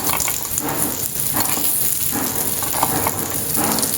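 Rajma veggie bites shallow frying in a pan give off a steady, loud, close sizzle that holds without pause throughout.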